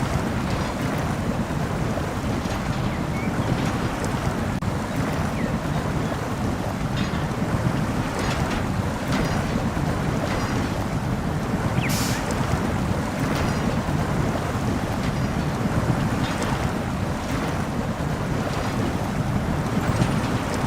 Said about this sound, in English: now we'll see how the little old Mercer here does with a good water crossing